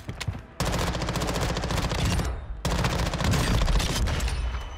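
Rapid automatic weapon fire in the shooter game Warzone comes in two long, loud, close bursts of dense rattling shots, separated by a brief pause.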